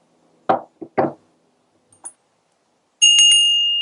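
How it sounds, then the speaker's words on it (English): A small bell rings for a sacred space ritual, with a bright sustained ringing tone that follows a few soft knocks and taps and carries on alone to the end. "using instruments like the gong or the Tibetan bowl or the bell to bring in the sound element"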